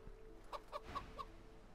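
An agitated hen clucks in a fantasy role-playing game battle, four sharp clucks spaced a quarter second apart, quiet against a low background hum.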